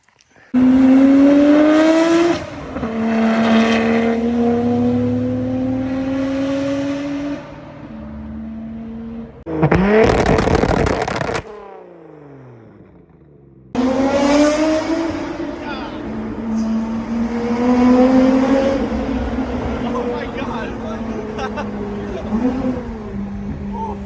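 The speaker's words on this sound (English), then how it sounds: "As you can tell from those last videos, the car is pretty loud." A Nissan Skyline R32 GT-R with a titanium exhaust revs hard repeatedly, rising and falling in pitch with a loud, raspy roar between brief pauses.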